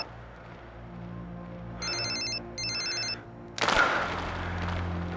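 Telephone ringing in a Hindi TV drama, two short bursts of electronic ringtone trills over a low music bed, followed by a sudden loud dramatic hit.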